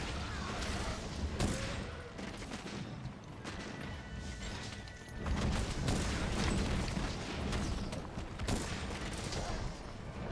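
Rapid repeated shots from a bowgun loaded with normal ammo in Monster Hunter: World, a dense run of firing blended with hunt effects and game music throughout, loud and close, with occasional bursts of speech mixed in.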